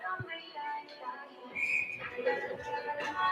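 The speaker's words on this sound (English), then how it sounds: "Official blows the whistle." A referee's whistle blows at a college hockey game in the NECHL, a short shrill tone amid arena crowd noise and some murmured voices.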